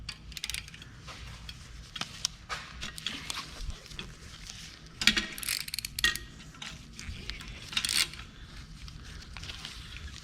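Ratchet on a 12-inch swivel extension removing bolts from a Chevy 1.8 engine oil cooler: quiet, irregular clicking and metallic clatter in short bursts.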